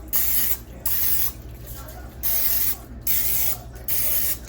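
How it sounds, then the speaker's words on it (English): Cooking spray sprayed onto a baking pan in a kitchen, five or six sharp hissing bursts about half a second to a second long, close and loud, separated by short pauses. "So we're just going to go ahead and spray our pan because we definitely don't want these to stick."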